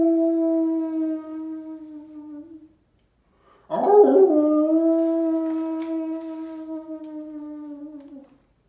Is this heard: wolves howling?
yes